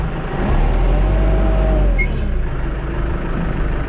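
A 2011 New Holland T4020 4x4 tractor with a loader engages and rolls forward, its diesel engine a steady, loud low rumble throughout with a slight rise in effort partway through.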